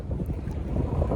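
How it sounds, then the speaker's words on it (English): Wind at the Bay of Fundy coast buffets the microphone in a low, rumbling gust that lasts about a second. "it's kind of windy here"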